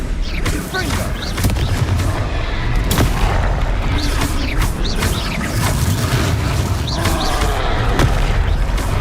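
Repeated magical blasts and booms from a Confringo fire spell during a troll fight in the Hogwarts Legacy video game, dense and loud throughout with voices over the din.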